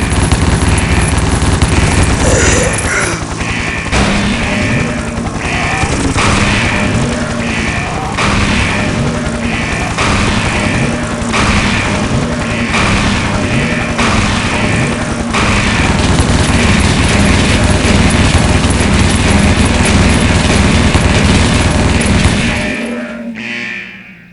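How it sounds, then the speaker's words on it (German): Loud, sustained rattling blasts and booming from an explosion in the video game Shadow Man during a prison riot, dense and continuous with rapid bursts before cutting off abruptly at the end. "So, spektakuläre Explosion."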